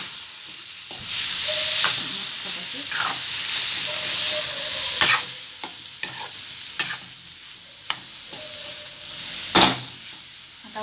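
Bitter gourd pickle sizzles and fries in a pan over a low flame, a steady hiss broken by repeated sharp scrapes and clacks of a spoon stirring against the pan.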